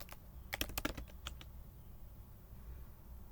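Fingers type on a computer keyboard, a quick burst of about eight close key clicks followed by a couple of isolated taps, then quiet.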